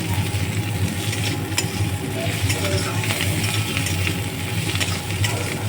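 Food fries in a pan over low gas, a dense, even sizzle with faint crackles and occasional light clicks of stirring, close and steady throughout with no talking.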